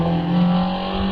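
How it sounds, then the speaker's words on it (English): Ginetta G15 race car with an Imp engine heading to the finish at a Loton Park hillclimb, a steady loud engine drone held at constant revs throughout, close and continuous with no talk. "Now through Museum and heading to the finish line as we have Peter Baker in the Ginetta"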